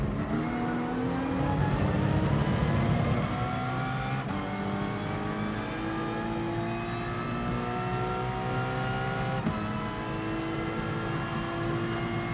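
An Aston Martin Vantage racing down the straights in GT Sport, a loud sustained engine roar climbing steadily in pitch through each gear, with brief dips at the gear shifts, heard continuously without talk.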